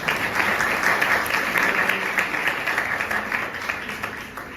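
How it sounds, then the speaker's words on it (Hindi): Dense applause from an audience at a Christian talk on the Christmas story, honouring Jesus; steady, even clapping fills the whole stretch at close range without pause. "यीशु के लिए तालियां बजा कीजिए"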